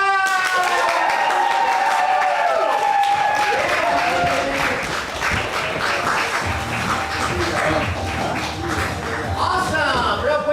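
Audience at an improv games class student showcase breaks into loud, sustained applause with some cheering, dense clapping filling the room throughout, with voices rising above it.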